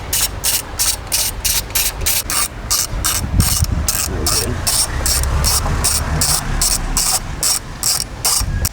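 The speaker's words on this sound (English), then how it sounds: "People have a go at you on YouTube for doing your ratchet like that." Ratchet wrench clicking in a steady, rapid run of sharp ticks while someone works on a BMW starter motor outdoors, with a low rumble of wind underneath.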